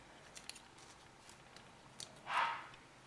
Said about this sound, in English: I'm just going to take and cut off a little of the other telephone page that I cut up